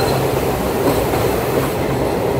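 A passenger train runs on the rails near Malda Town, a loud, steady rumble with faint rhythmic wheel clatter heard from on board, with no talking.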